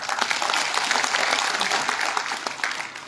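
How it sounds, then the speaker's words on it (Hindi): Audience applause at a disability empowerment conference in Reasi, a steady dense wash of clapping from a crowd, loud and continuous for a few seconds. "आप सब अपने लिए तालियां बजा सकते हैं"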